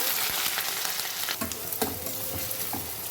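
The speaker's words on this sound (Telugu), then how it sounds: "ఆయిల్ వేడొచ్చింది ఉల్లిపాయలు పచ్చిమిరకాయలు వేస్తున్నాను" Sliced onions and green chilies hit hot sunflower or sesame oil in a village-style mutton keema preparation, giving a steady loud sizzle with stirring clinks and scrapes throughout, no voices.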